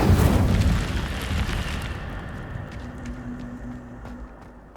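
Incendio fire spell cast in the video game Hogwarts Legacy, a loud burst of roaring flame that fades over a few seconds into a low rumble, with faint chimes trailing.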